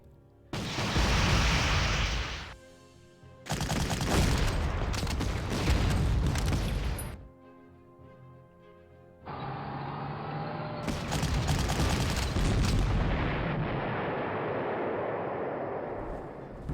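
Artillery explosions in the wargame Panzer Corps, three loud booming bursts each lasting a few seconds with rumbling decay, separated by short near-silent gaps, the last blending into a sustained roar.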